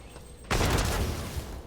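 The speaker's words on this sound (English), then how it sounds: "No, it's using my frag grenades" A frag grenade in a video game detonates with a sudden loud, close blast after a quiet moment, and the rumbling roar lasts more than a second.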